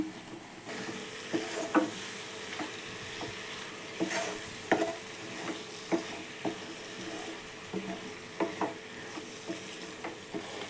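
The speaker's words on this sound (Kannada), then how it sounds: "ಇನ್ನೊಂದು ಒಂದೆರಡು ಸೆಕೆಂಡ್ ಇದನ್ನು ಹಾಗೆ ಫ್ರೈ ಮಾಡ್ಕೊಳ್ಳೋಣ" Mushrooms coated in masala frying in a pan for a dhaba-style mushroom gravy: a low continuous sizzle broken by repeated clicks and scrapes of a spatula at an uneven pace, close and moderately quiet, no speech.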